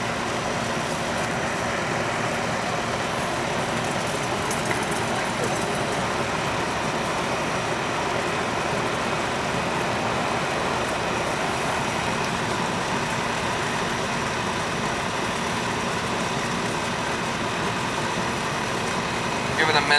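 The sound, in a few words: old air conditioning system running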